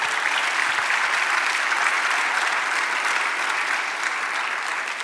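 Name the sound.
church congregation applauding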